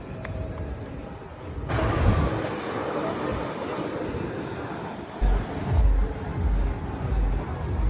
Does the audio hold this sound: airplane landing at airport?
yes